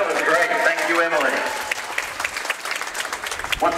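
A crowd applauds at a girls' high school basketball game after the national anthem, while an announcer talks over the clapping from start to finish.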